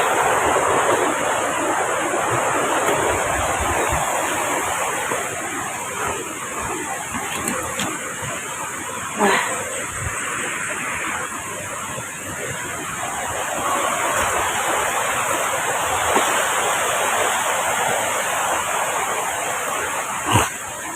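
A creek in the countryside rushes along in a constant, loud, broadband wash of flowing water, with a few faint knocks and rustles on top and no talking.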